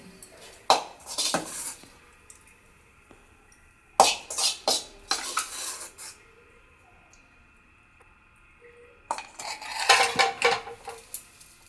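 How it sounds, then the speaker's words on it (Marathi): Cooked capsicum curry (Shimla mirchi bhaji) is scraped from a pan into a serving dish, giving three clusters of clinking, scraping metal spoon and utensil sounds separated by quiet gaps. "आता हा आपण एका डिशमध्ये काढून घेऊ"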